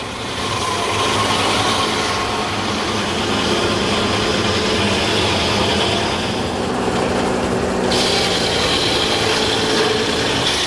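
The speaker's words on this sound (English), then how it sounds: "This carbide tipped circular saw turns the log into a square timber." Carbide-tipped circular saw cutting a log into square timber at a sawmill: a loud, steady mechanical roar and whine holds for the full length, brightening sharply near the end as the blade bites harder.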